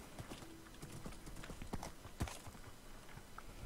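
Hollow hoof clip-clops from a Minecraft horse sound at an uneven walking pace, quiet and close, over a faint low background.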